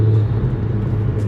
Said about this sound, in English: That is definitely the loudest car I think I've ever driven.